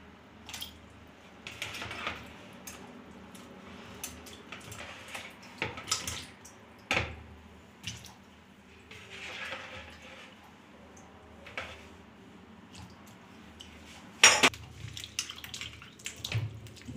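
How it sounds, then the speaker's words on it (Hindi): Cooked ash gourd (petha) pieces are washed by hand in water, giving soft intermittent splashes, trickles and drips at close range, with one louder clatter near the end. "तो इसे अलग से पानी में धो लेते हैं।"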